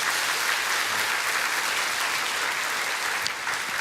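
Church congregation applauding a newly married couple during a Sunday worship service, steady dense clapping from many hands filling the room throughout, with no speech over it.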